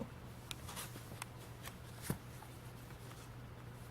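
Sheets of tea-dyed paper are shuffled and handled nearby, giving soft papery rustles and a few crisp flicks at irregular intervals against a quiet background hum.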